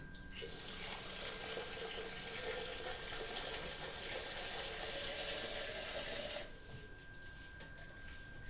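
Tap water runs steadily into a cooking pot holding eggs, a continuous close splashing rush that cuts off near the end, leaving a quieter kitchen hum.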